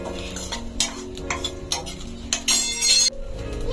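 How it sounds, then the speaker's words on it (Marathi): Grated coconut is dry-roasted in a pan on a gas stove for a Malvani fish masala, with close scraping stirs and sharp clinks of the spatula against the pan in irregular bursts. "तर अजून थोडंसं आपण भाजून घेऊया आणि गॅस बंद करून काढून घेऊया।"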